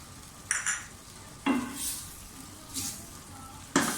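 Chopped capsicum (bell pepper) goes into a hot frying pan for a chicken vegetable spaghetti and is stirred, giving several close bursts of scraping and hissing sizzle, each fading quickly before the next stir.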